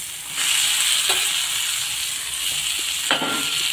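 Pre-fried eggplant and ridge gourd sizzle steadily in oily spice paste in a pan for a village-style rohu fish curry, a loud continuous hiss with a couple of brief stirring clatters.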